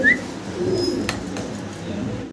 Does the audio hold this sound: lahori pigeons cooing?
yes